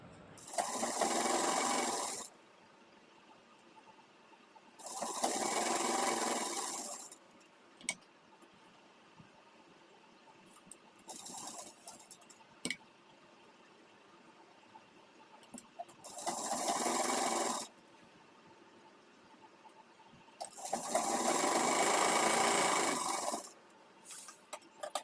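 Sewing machine stitching an Afghani salwar: four separate bursts of steady whirring, each lasting a few seconds, with quiet gaps filled by faint handling clicks and fabric movement.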